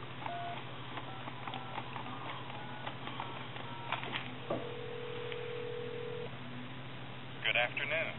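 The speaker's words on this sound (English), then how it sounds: "And we'll call like a time and temp number." A telephone dialing out to a time and temperature number, with a sustained steady tone and a few quick dialing pulses toward the end, all under a man's speech.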